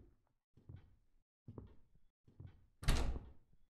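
A locked door in a horror video game rattles in several short bursts of clattering knocks, followed by one louder, sharper bang near the end, with no talking.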